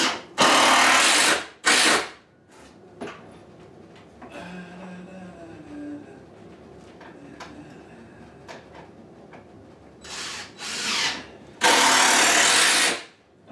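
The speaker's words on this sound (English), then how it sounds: "And I'm just toenailing, angling these screws in a little bit too." A power drill drives screws at an angle into wooden cellar shelves in several loud, whirring bursts: two at the start and two near the end, with quieter handling noises in between.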